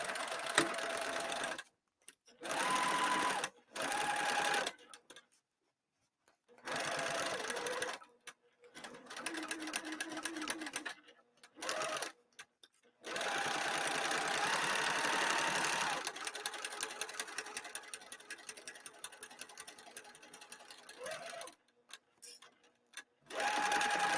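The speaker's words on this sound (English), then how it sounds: "we're going to go to the sewing machine and we're going to base stitch all the way around" A sewing machine base stitches around the edge of exterior bag material, running in repeated bursts of steady mechanical whirring separated by short silent pauses, with one longer continuous run in the middle.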